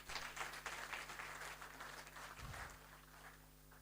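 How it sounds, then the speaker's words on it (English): Quiet audience applause at a graduation and induction ceremony for new fellows, a soft steady patter of many hands heard at a distance over a low hum. "Let's clap for that."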